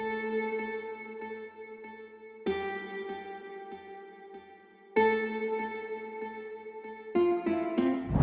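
Layered guitar parts built from music production plugins for an Afrobeat track, playing plucked notes alone with fresh attacks roughly every two and a half seconds, sustained and moderately loud, with a busier flourish near the end.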